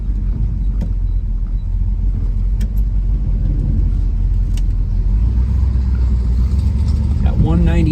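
A restored 1970 Chevrolet Chevelle LS6 muscle car drives along on a sunny fall day in Iowa, its engine giving a steady, loud, close low rumble throughout.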